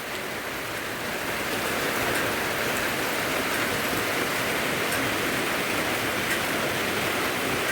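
Steady rain falls and patters on surfaces outdoors, a dense, even hiss that holds constant from start to finish with no other sounds.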